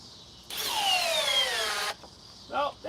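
A power drill driving a wood splitter attachment whines loudly for about a second and a half, its pitch falling under load, then cuts out before brief background voices.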